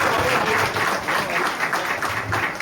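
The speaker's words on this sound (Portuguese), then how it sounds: "palmas louve o nome do Senhor." A church congregation claps loudly during a worship service, a thick continuous roar of hands close and steady throughout.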